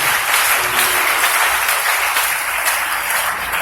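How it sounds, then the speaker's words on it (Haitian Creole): A church congregation breaks into loud, sustained applause, a dense wash of many hands clapping steadily throughout with no clear voices standing out. "Acclamez mon Dieu encore"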